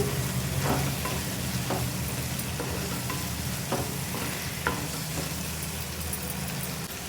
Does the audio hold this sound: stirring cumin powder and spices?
yes